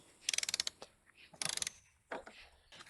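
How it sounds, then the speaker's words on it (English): Torque wrench on a Buddy Kick 125 scooter tightened to 13 foot-pounds: two quick bursts of rapid ratcheting clicks, then a few softer clicks and handling noises, close and faint with no talk. "Gonna listen for that click."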